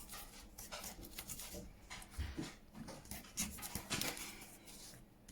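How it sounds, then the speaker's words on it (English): Colin the dog pants quickly and rhythmically after barking, close but soft, with faint clinks and rustles in the background. "Have you finished barking, Colin?"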